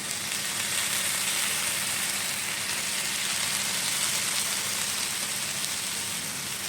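Sweet corn fries in a hot pan on a gas stove for a chaat, giving a loud, continuous, even sizzle that holds steady from start to finish without talk.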